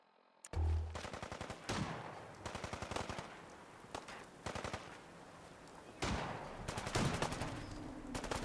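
Rapid automatic gunfire from the video game Fallout crackles in repeated bursts, sharp and dense, with brief pauses between volleys.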